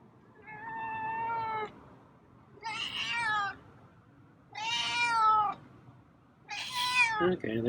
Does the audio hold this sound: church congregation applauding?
no